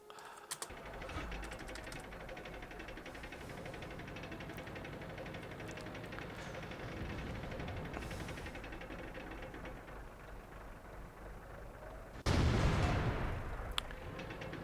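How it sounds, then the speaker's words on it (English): The BL-10 gun of a warship in a naval video game fires one heavy booming shot near the end, rising out of a long, steady mechanical engine hum. "That's the BL-10 gun for you. It is very, very temperamental."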